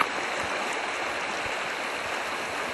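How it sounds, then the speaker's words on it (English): Dilemma Creek flowing down its valley near where Fossil Creek joins, a steady broadband rush of running water heard close up and continuously, with no voices. "So that's Dilemma Creek coming down the valley."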